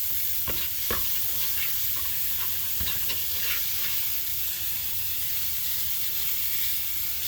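Beef for homemade chilli sizzles steadily in a hot pan, a constant frying hiss with a few scraping stirs near the start, close and loud with no talking.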